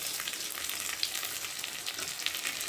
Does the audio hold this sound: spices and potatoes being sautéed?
yes